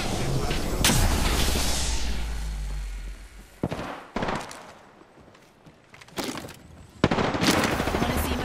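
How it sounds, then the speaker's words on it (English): Gunfire in the battle game Apex Legends, dense bursts of automatic shots and sharp cracks with a loud opening volley, a quieter gap, then more bursts, close and continuous. "Getting shot at."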